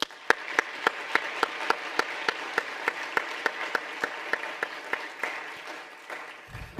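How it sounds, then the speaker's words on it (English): An audience applauds awardees at a public health honors ceremony, a sustained round of soft crowd clapping with one sharp, nearby clapper beating a steady rhythm on top, fading slightly near the end. "So one more round of applause for them."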